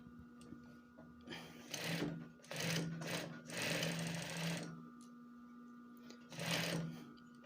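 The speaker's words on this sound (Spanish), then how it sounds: "la máquina está cosiendo perfectamente" Industrial flat (lockstitch) sewing machine stitching after threading, running in several bursts of steady mechanical whirring with brief pauses between, fairly close and moderately loud, with no talk.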